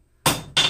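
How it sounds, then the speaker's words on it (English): A hammer strikes the jaw of a railroad-spike tong on the edge of an anvil with two sharp, ringing metallic blows in quick succession, close and loud. "we're just going to hammer straight down"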